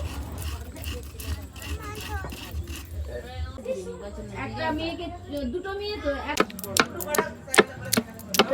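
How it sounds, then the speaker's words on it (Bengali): A whole coconut is hand-grated in a home kitchen, with rough scraping strokes that grow into a quick, uneven rhythm of sharp rasps near the end, while voices talk throughout. "এখন আমি নারকেলটা কুড়ে নিচ্ছি একটা গোটা নারকেলই আমি কুড়ে দেবো"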